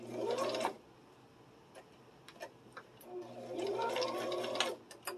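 A sewing machine stitches a seam on a kitchen boa in two close bursts of steady mechanical whirring, with a quieter pause between them.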